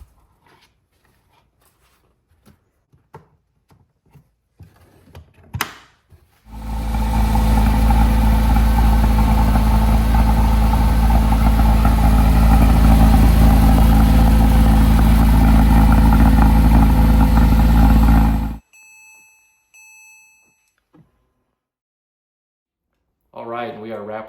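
A Porsche Cayman 987.1 engine idles after an oil change, starting up and running at a steady, loud drone for about twelve seconds before cutting off, with quiet handling sounds before and after.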